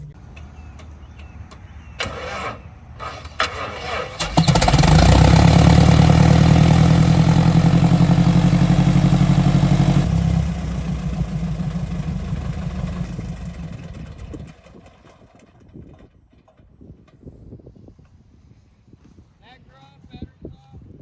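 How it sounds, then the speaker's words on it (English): The twin piston engines of a small light airplane run up from a start, then hold a loud, steady idle for several seconds before easing to a lower rumble, with a voice talking briefly over it. "Bring the idle just a tick up on both engines."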